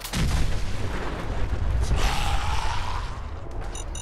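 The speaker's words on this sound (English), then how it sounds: "The car's gonna go boom." A loud, rumbling car explosion in Fallout 4 with a roaring blast that sustains and crackles, followed by lingering debris noise and a few faint electronic beeps at the end.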